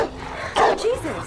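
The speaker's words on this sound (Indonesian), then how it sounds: "tiba-tiba guguk si abah datang dan terlihat ia sangat agresif" An aggressive dog from the film Don't Breathe gives a couple of short, sharp barks and yips, partly buried under a narrator's talking.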